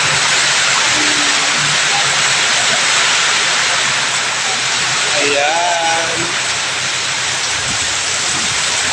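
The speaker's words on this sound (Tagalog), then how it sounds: "Ulan, lakas ang ulan mga kabeks." Heavy rain pours down steadily as a dense, continuous hiss on a rainy commute home, with someone speaking briefly under it.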